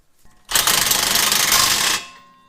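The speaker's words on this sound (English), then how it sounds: "Go ahead and put the bolt back in the bottom, like so." A power tool runs in one loud, steady burst of about a second and a half, driving the bottom bolt into a rear shock mount on a Mazda 5, with faint clicks just before it.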